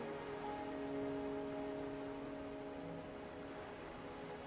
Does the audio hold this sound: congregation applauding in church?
no